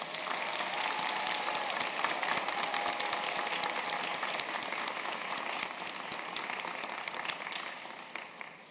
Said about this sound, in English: would you please join us for a round of applause for these students?